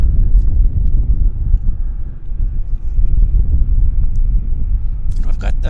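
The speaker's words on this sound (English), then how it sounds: "It's the Air Canada 8803 Q400. Landing nicely." An Air Canada Q400 turboprop airliner landing, heard as a loud, steady low rumble with wind buffeting throughout.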